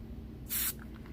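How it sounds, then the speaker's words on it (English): A short burst of cleaner sprayed onto a Technics 1200 MK2 turntable during cleaning: one brief, close hiss, loud against a quiet background, with no talking. "Spray in here a little bit."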